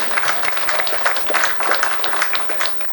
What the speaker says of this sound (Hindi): अगर जोरदार संचालन कर रहे हो तो जोरदार तालियां एक बार।